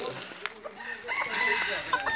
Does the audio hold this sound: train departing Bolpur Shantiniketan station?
no